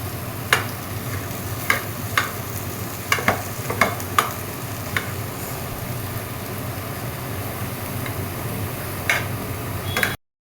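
Carrots, coriander and mint stir-fried for street-style egg fried rice, a steady close sizzle punctuated by sharp scrapes and clacks of a spatula against the pan, with no talking.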